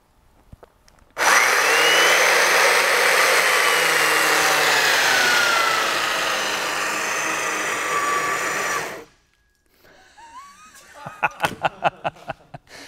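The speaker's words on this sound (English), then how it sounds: "Let's start digging with the mortiser." A chain mortiser cuts a through mortise in timber, roaring loud and steady for about eight seconds before cutting out abruptly, followed by faint clattering and knocks.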